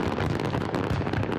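Fireworks bursting over the Detroit River at a Ford-sponsored night display, a dense continuous roar of booms and crackle filling the air, loud and unbroken.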